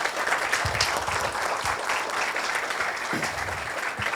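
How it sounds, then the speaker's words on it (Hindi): An audience at a stage play applauds steadily, a dense wash of clapping from a room full of people that carries on unbroken for several seconds at moderate volume. "इसके लिए एक बार तालियां बजाइए प्लीज़।"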